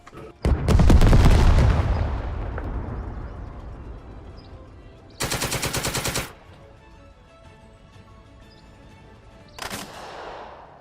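Gunfire in the hex-based squad tactics video game Second Front: a heavy booming shot with a long fading tail, then a rapid machine-gun burst lasting about a second, and later a shorter burst, with quiet gaps between.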